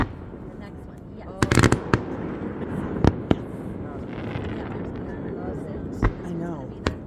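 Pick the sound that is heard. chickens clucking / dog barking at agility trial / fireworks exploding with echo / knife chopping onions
fireworks exploding with echo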